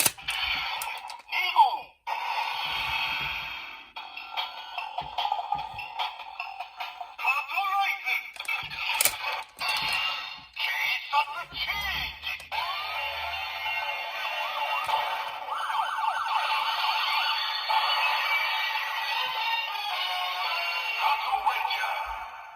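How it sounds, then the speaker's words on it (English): Bursts of electronic toy sound effects from a DX Trigger Machine 2Gou Lupinranger vs. Patranger toy, beeps, jingles and siren-like tones, play in a quick irregular sequence, moderately loud with clicks of handling between them. "let's try out the sounds coming from trigger machine 2Gou"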